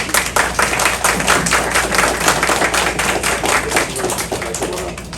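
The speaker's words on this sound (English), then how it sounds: "Let's give her a round of applause." An audience at a Grade 1 and 2 school orientation claps for an assistant principal: a dense, close patter of many hands, steady for several seconds before tapering slightly.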